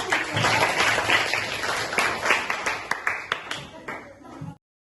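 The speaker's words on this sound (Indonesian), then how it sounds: "tepuk tangan untuk temannya" Classmates applaud a group presenting its carbon footprint reduction campaign, a close, dense burst of many clapping hands that thins into scattered claps before stopping abruptly, with some voices underneath.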